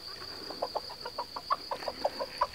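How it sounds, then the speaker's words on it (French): A Gray Cuckoo Marans hen clucks in a steady series of short, soft bursts, close by, with a faint high whine running underneath. "Ensuite on a Riquette, ma petite poule Coucou Gris Perle."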